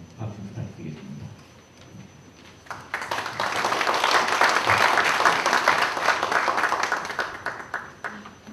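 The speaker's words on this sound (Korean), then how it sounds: "나오실 때 우리 감사와 또 격려 박수 부탁드리겠습니다" An audience at a church-denomination building seminar breaks into sustained applause, starting after a quiet moment and swelling into a dense, even wash of clapping that holds steady for several seconds before tapering slightly.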